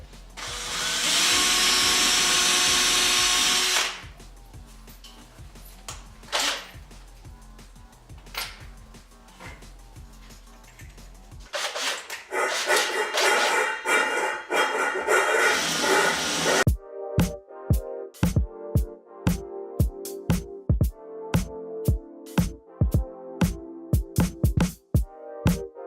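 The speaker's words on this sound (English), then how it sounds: "Now that I've drilled some perfect holes" Power drill boring holes into a resin-injected PLA combat robot wheel: a steady whine, bursts of grinding, then a run of sharp, evenly spaced clicks and knocks, close and loud with no talk.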